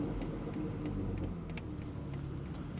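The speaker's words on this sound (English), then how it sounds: "And this is how the car sounds on regular speeds, so nothing crazy." BMW X3M with an equal-length OPF delete exhaust cruising at regular speed, a steady low engine and road drone heard from inside, even and unremarkable with faint ticking on top.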